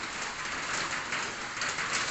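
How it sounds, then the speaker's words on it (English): Steady rain pattering on a small awning overhead during a downpour in Cambodia, a continuous even hiss without breaks and with no voices. "let the rain fall where it may"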